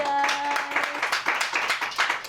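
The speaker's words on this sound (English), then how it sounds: "some hearty clapping" Studio audience clapping heartily, a brief burst of many hands that starts full and thins into scattered claps within a couple of seconds, with a faint voice at the start.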